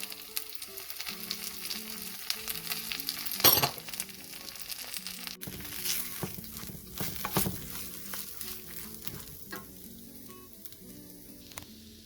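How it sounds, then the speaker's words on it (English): Peanuts, peanut butter and paprika fry in a pan over medium heat with a steady, crackling sizzle, broken by a few clinks and stirring scrapes, with a louder burst early on. "I'm going to turn it down to medium heat and add the peanuts, peanut butter, and paprika"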